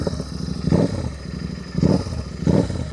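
Royal Enfield GT 650 twin with a newly fitted Level One aftermarket exhaust, revved in place with three throttle blips rising out of a steady idle burble, close and fairly loud, with no talk.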